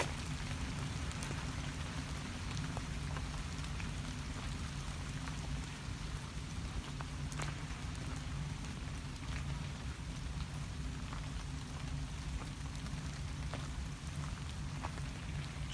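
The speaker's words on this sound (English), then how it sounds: "it's a rainy one today, folks." Steady rain falling outdoors in Blackburn, a constant patter on surfaces with occasional louder drips, continuous and fairly soft throughout with no talking.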